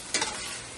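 Beef tips for stroganoff browning in a pan, a short close sizzle with a brief burst of frying noise.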